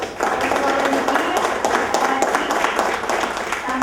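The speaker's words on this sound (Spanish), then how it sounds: "Un aplauso para ustedes." Audience applause in a university hall at an evening poetry event, steady dense clapping sustained from start to finish with no break, loud and close, no talk over it.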